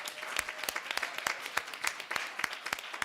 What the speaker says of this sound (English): let's all give a round of applause to our interim mayor,